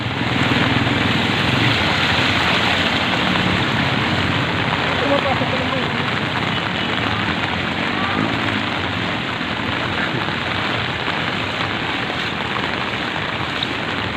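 Floodwater rushes steadily through a Pasig market during Typhoon Ulysses, with rain falling throughout as a dense, constant wash of noise and faint voices underneath.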